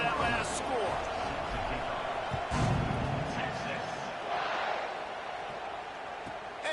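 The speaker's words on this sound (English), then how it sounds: "this crowd is buzzing after that last score" A stadium crowd buzzes after a score in the NCAA 26 college football video game, a broad, steady roar running under a commentator's continuous talk.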